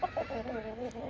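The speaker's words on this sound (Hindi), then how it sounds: "इधर मैंने मुर्गियों को दाना भी डाल दिया, ये दाना खा रही है" Hens cluck in a steady, close run of soft calls while pecking at scattered grain in a home yard, the clucks overlapping one another without pause.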